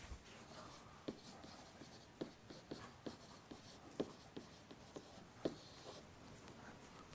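Pen or pencil scratches out a short note on paper, a series of faint, close taps and strokes in an irregular rhythm against a quiet room hum.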